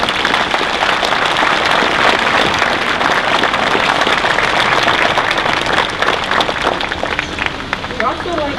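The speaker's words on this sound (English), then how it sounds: "could you please join me in one more round of applause for all of our speakers today" An audience at a middle school September 11th memorial gives a loud, sustained round of applause for the speakers, dense clapping that fills the room and thins slightly toward the end, with voices faintly underneath.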